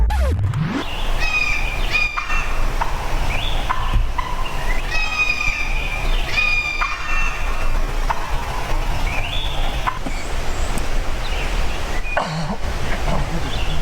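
Wild birds calling during a bird hunt outdoors, repeated chirps and call phrases spread across several seconds over a constant rumbling background, fairly loud and near.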